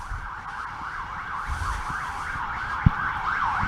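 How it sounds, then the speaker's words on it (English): Emergency vehicle sirens wail on a Washington, DC city street, with a continuous rising and falling tone over low traffic rumble and one sharp thump near the end. "Of course, we got some sirens behind us, so it might get loud here in a second."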